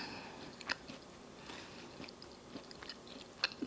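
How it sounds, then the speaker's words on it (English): Close, quiet chewing of a crunchy eggless, dairy-free oatmeal cookie with almonds, with moist mastication and a handful of distinct crisp crunches spaced unevenly, the loudest near the start and the end. "A little crunch of the almonds."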